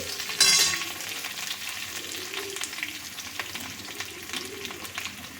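Potato pieces sizzle steadily in hot oil for a Bengali pumpkin chhokka, with a brief scraping stir near the start and continuous crackling throughout, close and fairly loud.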